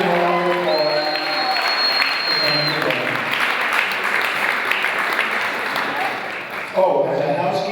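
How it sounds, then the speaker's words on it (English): A wedding crowd applauds in a continuous, dense wash of clapping that holds steady throughout, with some cheering and voices mixed in near the end. "Please give them a round of applause."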